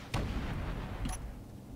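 Missile impacts striking a heavy armor block in Space Engineers, heard as a sharp boom followed by a second muffled blast, fairly faint with rumbling low tails.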